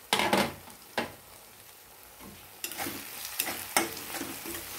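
Chopped garlic sautéed in a pan for a brinjal and dried prawn dish, soft frying sizzle punctuated by several sharp spatula scrapes and clinks against the pan, fairly quiet, no voices.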